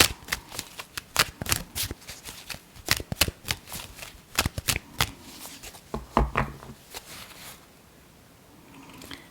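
Tarot cards are shuffled up close in quick, uneven bursts of crisp slapping and riffling that trail off toward the end.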